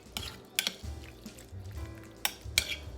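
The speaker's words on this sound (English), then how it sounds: "Just mix your seasonings in really well" Seasonings get mixed into a dish at home, a spoon scraping and clinking against the bowl in a few sharp strokes spaced irregularly, with soft shuffling stirring between them, close and fairly quiet.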